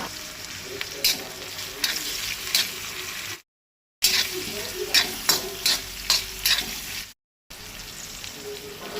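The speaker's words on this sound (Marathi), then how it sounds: "कांदो आतां बरो तळशीत रावपाक जाय 2-3 मिनटां।" Chopped onion frying in a pan for a Goan jackfruit seed bhaji, stirred with a spoon: a steady sizzle broken by a series of scraping, clattering stirring strokes, close and clear, with two brief silent gaps and no voices.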